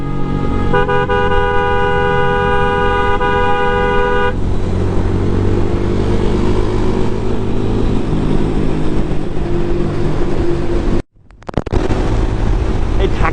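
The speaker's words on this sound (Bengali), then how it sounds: "যতই ভাবি যে হর্ন দিব না তাও হর্ন দিতে হয়" A car horn sounds repeatedly over steady vehicle and road rumble on the Dhaka–Chittagong highway at dawn, near and loud, with a sustained honk early on and a brief dropout near the end.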